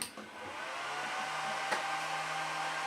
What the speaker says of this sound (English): the module is turned on, and you can see the green light here turned on, and the fans are spinning really loud